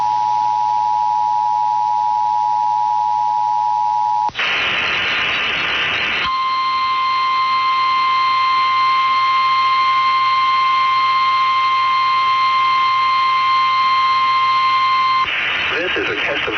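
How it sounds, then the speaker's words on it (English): NOAA weather radio emergency alert broadcast: a steady high tone gives way to a burst of harsh data noise, then a long two-tone warning alarm holds for about nine seconds before another data burst, all loud and continuous. "This is a test of the NOAA radio warning alarm and e-signals."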